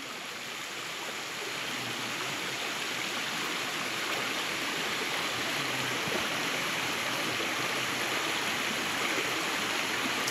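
A river flows in a steady, dense rush of water, continuous and fairly loud throughout with no breaks or voices.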